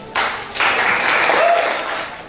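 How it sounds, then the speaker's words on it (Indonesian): Applause breaks out from a student audience at a finance and banking seminar, starting abruptly and swelling into steady, moderately loud clapping. "Mungkin bisa tepuk tangan buat artis."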